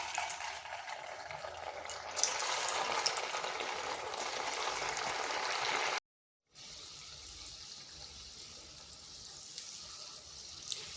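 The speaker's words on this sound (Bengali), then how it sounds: "এরপর বাকিগুলোও ভেজে নিচ্ছি।" Semolina sweets deep-fry in hot oil with a soft, continuous bubbling hiss at moderate distance. A brief silent gap breaks the steady sizzle, which then carries on more quietly.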